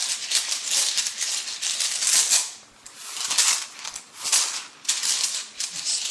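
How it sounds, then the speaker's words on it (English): Rune stones shuffled inside a bag make quiet clattering, clicking rattles in uneven bursts with short pauses between them, close by and with no voice over them. "I might go back and edit out the shuffling."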